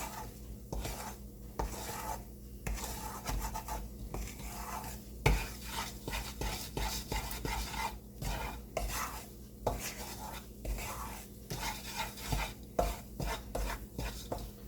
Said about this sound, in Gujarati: આપણે હલાવતા જ રહેવાનું છે.